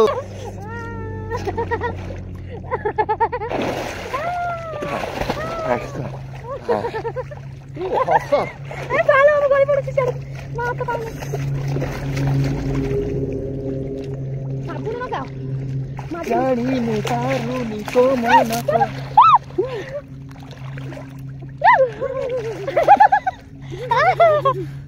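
People swim and splash in water in Odisha. Irregular watery splashes are heard through a near-continuous stream of lively talking and calling voices.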